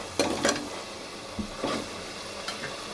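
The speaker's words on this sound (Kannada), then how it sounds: "ಶುಂಠಿ ಬೆಳ್ಳುಳ್ಳಿ ಪೇಸ್ಟ್ ಹಾಕ್ಕೊತಾ ಇದ್ದೀನಿ. ಮಿಕ್ಸ್ ಮಾಡ್ಕೊಳ್ತಾ ಇದ್ದೀನಿ." Ginger garlic paste sizzles in hot oil as it is stirred into a pan for chicken biryani. Soft scraping strokes come in a few separate bursts over a steady low frying hiss.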